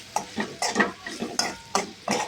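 Vegetables for vegetable biryani being stirred in a wok-like pan after turmeric is added: a steady run of scraping, shuffling strokes in a regular rhythm, close by and with no voices.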